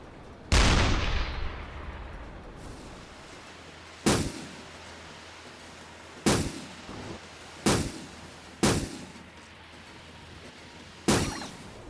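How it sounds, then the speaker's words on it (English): A surfaced U-boat's deck gun firing at a ship in a video game, six heavy booming shots spaced a couple of seconds apart, each with a short rumbling decay over a low engine hum. "She didn't take too many shots with the deck gun there."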